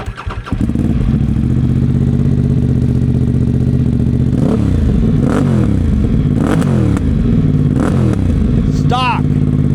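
Moto Morini X-Cape 1200 motorcycle with its stock exhaust, engine catching and settling into a loud, steady idle, then several sharp throttle blips rising and falling near the microphone.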